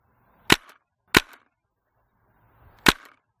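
Three sharp paintball marker shots fired outdoors for curved long-range shots of 40 to 50 metres, each a loud crisp crack with a short tail, the first two close together and the third after a longer pause.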